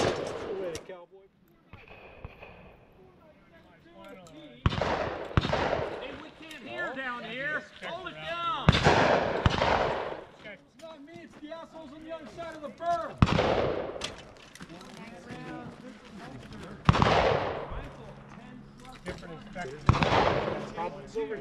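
Gunfire on a cowboy action shooting stage, loud sharp reports spaced every few seconds at close range, with people talking and calling out between and over the shots.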